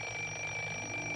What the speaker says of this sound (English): When the alarm clock rings,